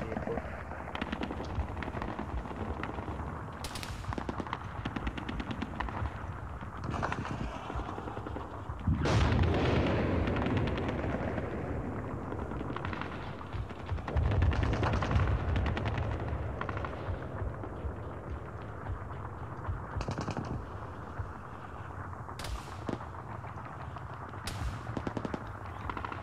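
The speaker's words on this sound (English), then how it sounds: "just moving where the gunfire was coming from, but I'm not sure" Machine gun fire from a vehicle in Arma 3 rattles in repeated bursts at mid distance, with heavier booming impacts and longer loud volleys, some of them overlapping quiet player chatter.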